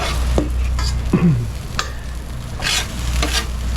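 Fajita vegetables sizzle steadily on a hot outdoor grill while a metal spatula scrapes and clanks against the grate in several short bursts.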